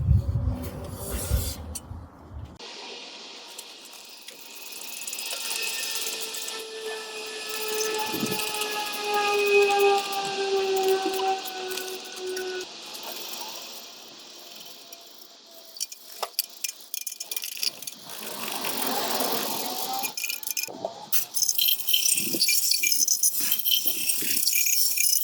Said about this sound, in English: So I'm going to give it a quick degrease while it's off